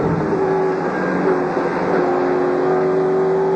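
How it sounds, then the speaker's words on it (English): Touring race cars of the 1996 Australian Touring Car Championship at Phillip Island circuit, heard as a loud, continuous engine drone with a sustained whining tone and no voices. "Glenn squeezing onto the throttle, just hanging onto the back of the Perkins car"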